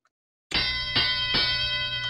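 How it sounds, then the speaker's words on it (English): A bell rung on a podcast: a bright metallic ding starts abruptly after a brief silence and rings on with sustained tone, struck again twice in quick succession. "I already rang the bell."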